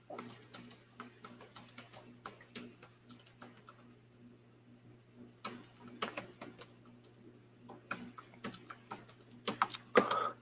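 Bursts of clicking keystrokes on a computer keyboard, typed in irregular runs with short pauses, close and fairly quiet over a steady low hum, with faint voice near the end.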